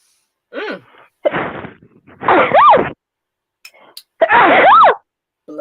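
A person sneezes several times in quick succession, close and loud, each burst a sharp nasal explosion with pitch sweeping up and down, separated by short silences and breaths, with no one speaking between them.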